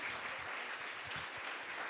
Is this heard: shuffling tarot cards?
no